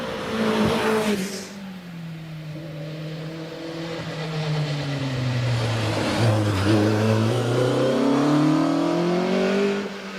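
A race car climbing the Prescott hill climb course during British Championship practice, its engine revving and shifting through gears as it rises and falls in pitch, steady and moderately distant throughout.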